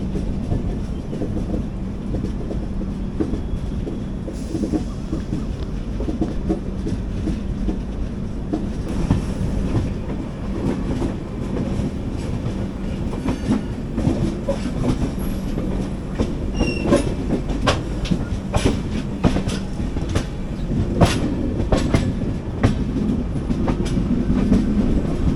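Express train 22653 rolling on rails into the Kannur yard, heard from onboard as a steady loud rumble with rhythmic wheel clicks throughout.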